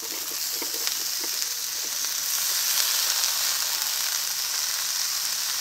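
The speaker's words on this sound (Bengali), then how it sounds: "পেঁয়াজটাকে যে হালকা ভেজে নিয়েছি, এখন এর ভিতরে দিয়ে দিচ্ছি বেগুন" Eggplant pieces sizzle and fry in hot oil over lightly fried onion, a steady close crackling hiss that runs the whole time with a few faint stirring clicks and no talking.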